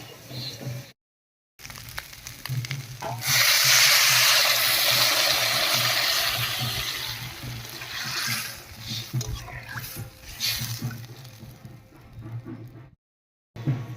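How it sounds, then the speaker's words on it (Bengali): Water poured into a pan of cauliflower and paneer curry to make gravy, a loud rushing splash that swells, then trails into softer sizzling and bubbling; brief silent gaps near the start and end. "এবার জল দেবো ঝুলের জন্য"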